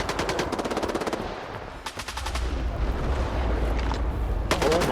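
Rapid automatic gunfire in the video game S.T.A.L.K.E.R. 2 Heart of Chernobyl, loud bursts of machine-gun fire followed by a deep rumbling boom and further shorter bursts, with no talking.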